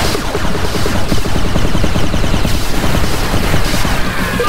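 Dense, continuous gunfire from the real-time strategy game 9-Bit Armies, with overlapping rapid bursts of automatic fire sustained loudly throughout, no talk.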